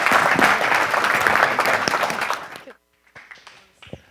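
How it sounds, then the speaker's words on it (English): Applause for Johnny and Paige at a builders' event: strong, crowded clapping for about two and a half seconds that fades abruptly, followed by a few scattered claps and faint voices. "Can we get another round of applause for Johnny and Paige?"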